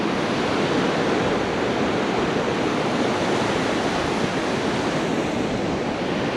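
Water rushes through a tunnel in Glacier National Park, a loud, unbroken roar of turbulent flow with no voices heard.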